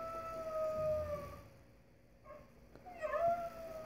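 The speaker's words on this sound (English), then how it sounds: "That's how you're gonna make your dog howl." A dog howls in long, wavering tones, rising and falling with a short dip in the middle before the howl swells again, fairly close and alone.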